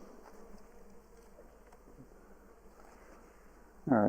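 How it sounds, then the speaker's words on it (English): Honey bees buzz around an opened hive as its winter wraps come off, a faint steady hum of many insects with a brief louder burst of noise near the end. "there's a few bees going in and out with pollen."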